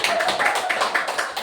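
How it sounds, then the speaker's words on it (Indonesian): A group claps together at a school collaboration sharing session, a busy run of overlapping hand claps at steady loudness with a voice faintly underneath. "sekali lagi kita beri tepuk tangan dulu untuk"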